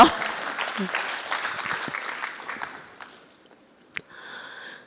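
Applause from an audience at a Rotary club meeting, a dense clapping wash that fades over about three seconds, followed by a brief sharp knock and a faint hiss.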